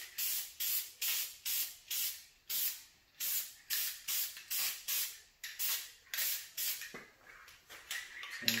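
Short bursts from a spray gun lay down a second coat of paint, about fifteen rhythmic hissing passes in quick succession, close and loud with brief gaps between each stroke and no talking.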